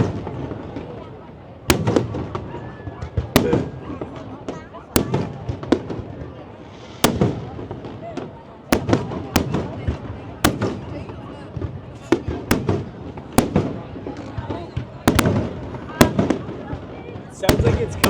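Fireworks bursting over a city waterfront during Vietnam's National Day celebrations, sharp loud booms and cracks recurring every second or two, echoing off surrounding buildings, with crowd chatter and voices murmuring underneath throughout.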